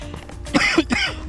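A short, close throat-clearing cough, a few rough bursts in quick succession.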